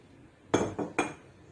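A spoon clinks against a bowl while papad khar, oil and water are mixed for Gujarati fafda dough, giving three sharp, close taps in quick succession, with no voices.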